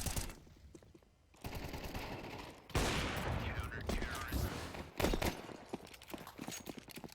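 Pistol gunfire in a Counter-Strike 2 esports match, a flurry of rapid in-game shots and impacts mixed with footsteps and game noise at moderate level, with a caster's commentary running underneath.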